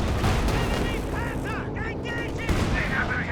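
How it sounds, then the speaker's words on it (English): Tank guns fire in a World War II strategy game, with repeated gunfire and distant booms over a dense battle din, and someone commentates over it. "This is returning fire, but missing on the Jagdpanzer."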